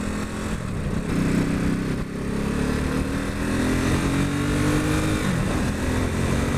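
A Ducati Supersport S motorcycle engine runs loud and steady up close, its throaty drone holding with rising and falling engine tones throughout, no voices over it.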